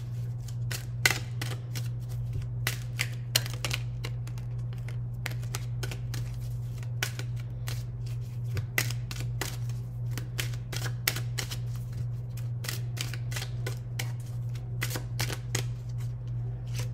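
Tarot cards are shuffled for a reading, a quick crisp patter of card flicks and riffles repeating close by over a low steady hum, with no one speaking.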